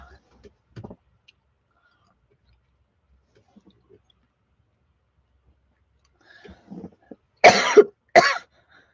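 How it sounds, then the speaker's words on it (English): A person coughs sharply twice near the end, following a few faint earlier sounds, in an otherwise quiet indoor room. "Sorry, I'm coughing and sneezing."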